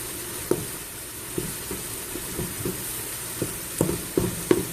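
Chunks of sausage browning in a pan give off a steady close hiss of frying fat, broken by scattered pops and a few scrapes of stirring, with no talking.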